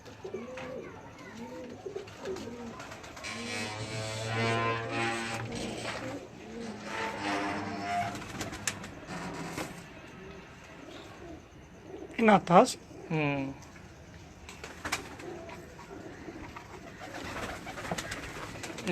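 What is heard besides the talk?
breeder pigeons cooing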